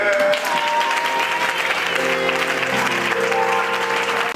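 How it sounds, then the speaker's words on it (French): A church congregation applauding during a pastor's sermon, a sustained dense wave of clapping from a large crowd, loud and close, with voices mixed in. "Acclamez le Seigneur."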